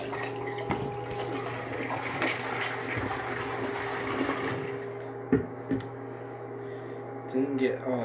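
A $5 2014 Contrac toy baby toilet being flushed with soap in it: running, gurgling water pours steadily then tapers, with a few sharp clicks and splashes near the end, close and fairly quiet.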